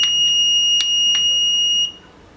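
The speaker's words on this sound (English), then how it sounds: "It's a mathematical alarm clock which generates a mathematical problem when the alarm sounds" An 8085 microprocessor-based mathematical alarm clock sounds a steady, shrill electronic alarm tone broken by a few short chirps, loud and continuous for about two seconds before cutting off abruptly.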